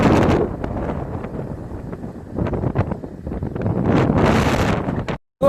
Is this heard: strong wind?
yes